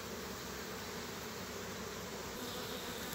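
Calm Carniolan honey bees clustered on a brood frame, a dense, continuous buzzing hum of many insects close by, steady and unbroken with no voices.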